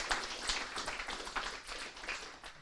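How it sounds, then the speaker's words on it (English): Audience applause at a tech conference and hackathon, a steady patter of hand claps from a modest crowd lasting a few seconds, moderately quiet with no talking over it. "Round of applause."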